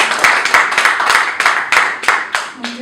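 Clapping from the audience at a press conference in Paris for a singer, a run of sharp, fairly rhythmic claps, loud and close, a small group rather than a big crowd.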